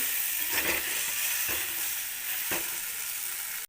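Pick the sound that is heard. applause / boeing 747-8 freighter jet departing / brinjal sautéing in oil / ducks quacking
brinjal sautéing in oil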